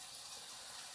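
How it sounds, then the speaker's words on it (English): Water running from a normal tap above a sink, a steady broadband hiss that stays even and fairly faint for the whole second, with no voices. "So here we just put in a normal tap above the sink, and if we push it on,"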